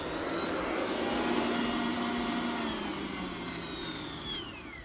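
An electric mixer beats a mixture until stiff for a chocolate roulade, with a loud, steady motor whir close by whose pitch drifts slightly as it runs.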